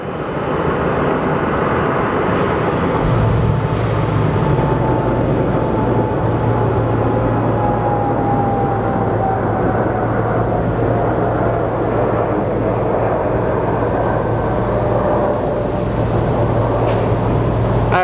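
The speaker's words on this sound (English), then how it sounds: "And here comes our Dreamliner." A Boeing Dreamliner approaches Phoenix Sky Harbor with a steady, fairly loud engine hum and a slowly falling whine, joined by a low constant drone from the airfield, and no one speaks.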